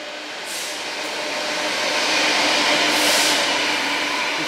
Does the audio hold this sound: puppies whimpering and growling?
no